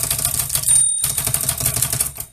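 Typing on a 1950 Voss Modell 50 typewriter, a rapid run of sharp mechanical key strikes with a short pause, then more clacking close by.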